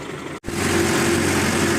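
A tractor engine revs hard trying to pull a trolley stuck in paddy mud, a loud steady low drone with a brief cutout near the start.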